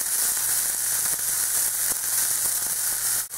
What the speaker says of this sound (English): I'm going to add the garlic and mix that in with the onions.